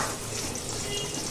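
Dal chorchori sizzles softly in a pan as it dries down, a steady close hiss and bubble with no break.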